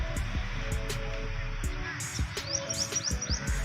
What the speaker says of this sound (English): And here now there are around 100 or 200 birds